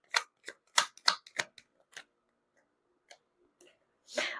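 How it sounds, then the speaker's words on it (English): Playing cards shuffled by hand during a tarot-style reading, a series of sharp riffling clicks and flicks in quick bursts, close and fairly loud, with a softer rush of card noise at the end and no talking. "You saw me shuffle."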